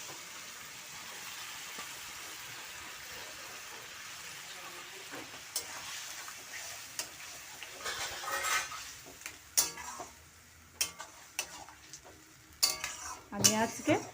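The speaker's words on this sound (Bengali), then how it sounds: "ভালোভাবে মিশিয়ে নিচ্ছি" Boiled banana flower being stirred into fried spices in a pan for a mung dal curry, faint sizzling at first, then irregular scraping and clinks of a spoon against the pan growing louder toward the end.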